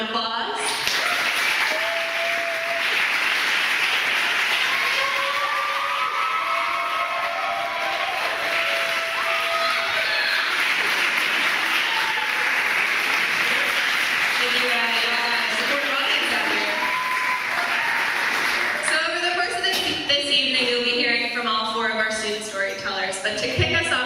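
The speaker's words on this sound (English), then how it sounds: "Can we give them a round of applause?" Audience at an evening student storytelling event applauding, a long sustained wave of clapping with some voices and cheers mixed in, continuous and loud throughout.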